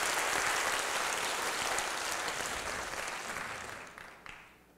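Audience at a forum on business leadership applauding, a dense, even wash of clapping that holds steady and then fades away near the end.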